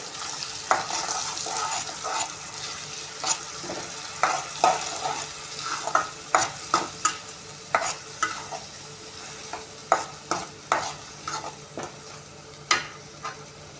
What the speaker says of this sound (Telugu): పుదీనా పేస్ట్ని వేసుకున్నాక ఇది పేస్ట్ అనేది బాగా ఫ్రై అవ్వాలన్నమాట పచ్చివాసన పోయే వరకు ఫ్రై చేసుకోవాలి